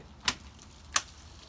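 Two sharp, close clicks about two-thirds of a second apart as parts of a home-built foundry mould are pushed together, with quiet background between them.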